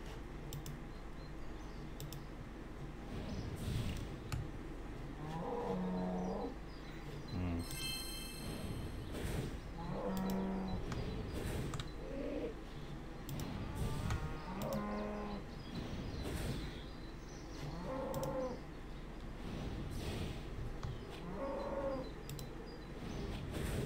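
Cows mooing in the RuneScape video game, several drawn-out low moos repeating every few seconds over a constant game soundscape with faint keyboard typing.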